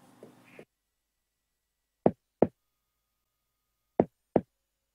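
Four short, dark kick drum hits from an Afro House production, arranged as two pairs of quick double thumps with a gap between them, clean and isolated after a brief snippet of sound at the start.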